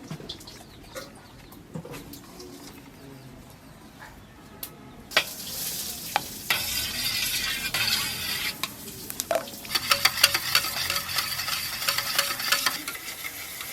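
Rice flour papad batter with chopped coriander and fried spices is stirred and mixed in a bowl, a steady scraping, sloshing sound that grows louder and busier partway through, with faint birds and outdoor sounds in the background.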